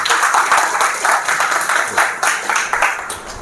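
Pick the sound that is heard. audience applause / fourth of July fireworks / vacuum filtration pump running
audience applause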